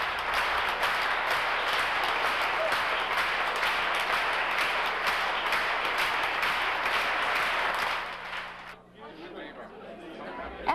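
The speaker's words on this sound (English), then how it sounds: "The Swiss audience began stamping their feet and clapping rhythmically." A Swiss concert audience in Zurich, after an Atlanta Symphony Orchestra and Chorus performance on its 1988 European tour, stamps and claps in a dense, loud, continuous roar that breaks off sharply near the end, leaving quieter murmuring.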